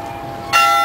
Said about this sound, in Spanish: Ahí están otra vez las campanadas